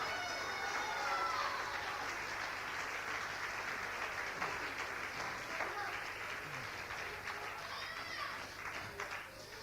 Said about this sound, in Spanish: Dale el aplauso a Cristo, que Él se lo merece